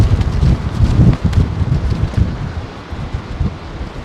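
Gusty wind buffets the microphone at London Heathrow Airport, a rough, rumbling roar that swells and eases in strong headwind conditions, with no voices.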